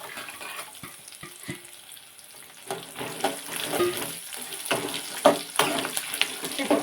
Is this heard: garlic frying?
yes